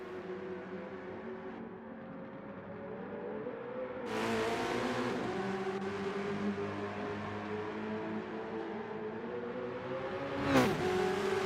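A race car engine in Gran Turismo 7 drones steadily, then revs higher with a rising whine, ending in a quick whooshing pass; moderately loud and alone, with no talk.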